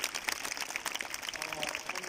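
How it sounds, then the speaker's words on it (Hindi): Students and staff applaud at a school Independence Day ceremony at a Jawahar Navodaya Vidyalaya in Ambala, a faint, steady patter of many hands clapping at a distance with some background voices. "उसके लिए जोरदार तालियां"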